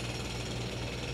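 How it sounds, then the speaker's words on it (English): A pneumatic drill hammers loud and unbroken at the Poplar Walk entrance beside the Whitgift Centre in Croydon's city centre, among surrounding buildings and construction work, with no pauses or voices. "someone operating a pneumatic drill"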